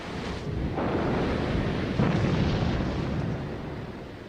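High Atlantic waves batter a ship in a steady, roaring wash of rough sea that swells louder in the middle and then eases, with no voices.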